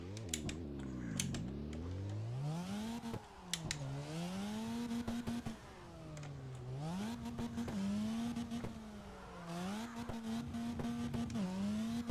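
A car in the CarX driving game revs hard around a track, its engine tone sweeping up and down through repeated gear changes, loud and continuous, with occasional sharp clicks and faint tire squeal.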